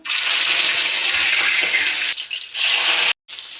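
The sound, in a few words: chicken pieces frying in hot oil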